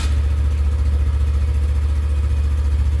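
A 2021 Honda Super Cub motorcycle engine idles steadily just after a kick start, a close, even low-pitched putter that holds level without revving and with no voices.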